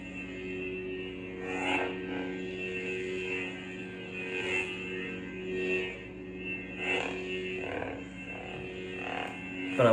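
Sabertrio Senza lightsaber with a Satin Aurodium hilt running a green sound font, a steady electric hum with layered tonal buzzing that swells in several soft pulses as the blade is swung, heard close and alone.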